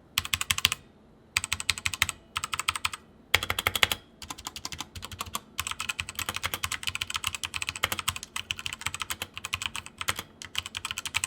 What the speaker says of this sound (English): This keyboard is using Altemu switches, and you can pick from blues, reds, or browns, and these switches feel really good on this keyboard.